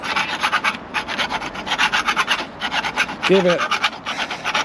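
A file rasps back and forth across threaded textured conduit to clear burrs, giving quick rhythmic scraping strokes close by with brief pauses, while someone speaks briefly partway through.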